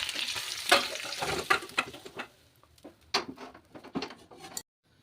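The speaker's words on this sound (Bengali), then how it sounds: "আলুগুলোও ভালো করে ভাজা হয়ে গেছে লাল লাল করে" Small potatoes fry in a pan, giving a soft, crackling sizzle with bursts of stirring and scraping that thin out toward the end, heard close and without talk.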